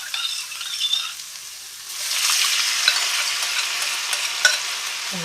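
Sauce with ginger and garlic poured into a hot pan of frying tofu, giving a sudden loud sizzle that swells and stays steady, preceded by quieter crackling frying, with no voices.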